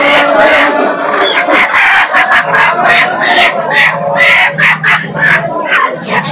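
Native desi chickens cluck and crow loudly at a busy poultry market, close and continuous, with a crowd murmuring in the background.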